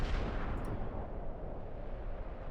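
Firework explosions in the video game Kingdom Hearts 2, a dense rumbling barrage of booms and crackling blasts that stays loud throughout, with no voices.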